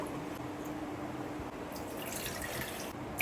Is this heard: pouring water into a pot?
yes